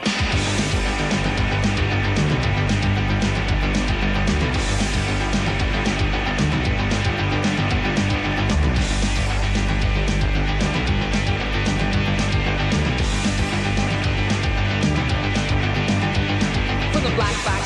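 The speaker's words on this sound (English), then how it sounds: "This is the sound of an electric guitar." Electric guitar playing continuously, loud and full-bodied with steady sustained tones and a heavy low end, alone without any talk.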